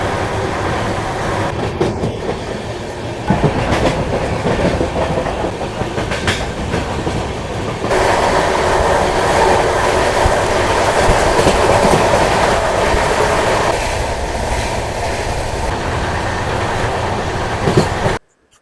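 Jammu Tawi Express train running on the rails, a steady loud rumble of wheels with rhythmic clickety-clack over the track joints, swelling louder midway and continuing throughout before cutting off abruptly.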